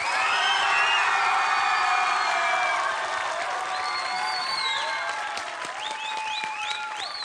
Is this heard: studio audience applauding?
yes